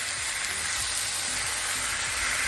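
A seared chicken breast sizzles steadily in a hot pan after being flipped, a bright, dense frying hiss close up with faint crackles and no talking.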